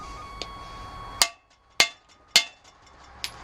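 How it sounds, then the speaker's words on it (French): Sharp metallic hammer taps strike a tube driven onto a Motobécane moped crankshaft to lock the ignition cam in place: three clear ringing blows with short decays, plus a couple of lighter ticks. "et un petit coup de marteau"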